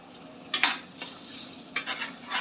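Masala spices stir-fried in oil in a pan: a few quick, scraping stirs of a utensil against metal rise over a soft, constant sizzle, close and clear.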